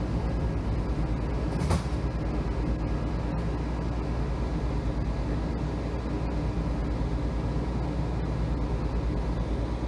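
A WMATA Kawasaki 7000-series Red Line subway train rumbles steadily from inside the car, with a constant low roar, faint rail clicks and a brief sharp high hiss near the start.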